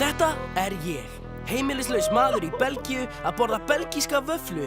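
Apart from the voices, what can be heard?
None of the usual background noises is heard.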